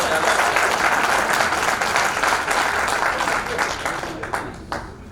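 A live audience at a jewellery trade event in Indore claps loudly and densely in sustained applause that tapers off toward the end.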